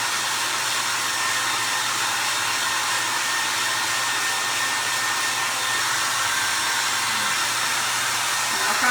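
A heat gun blows hot air onto a primitive craft sunflower, giving a steady, loud airy roar that holds unbroken throughout with no talking.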